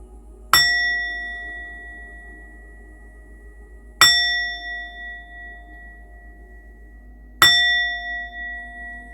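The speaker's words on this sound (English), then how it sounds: "I just want to ring the bell to clear and cleanse the energy. I'm going to go ahead and do that 3 times." A bell rung three times to clear energy, each strike a bright ringing tone with a slow decay, evenly spaced about three and a half seconds apart in a quiet room.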